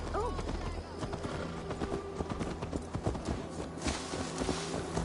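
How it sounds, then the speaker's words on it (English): Horse hooves clip-clopping in Assassin's Creed Valhalla, a quick irregular series of hoof strikes close by at moderate loudness, with a voice speaking over them. "Let's return the horse."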